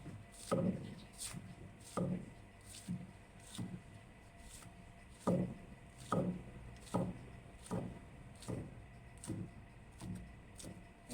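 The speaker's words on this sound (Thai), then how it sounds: "เราจะหั่นถั่วก่อนนะ" A knife slices about ten yardlong bean pods on the diagonal, giving faint, crisp chops in an uneven rhythm of roughly a dozen strokes with short pauses between them and no talking.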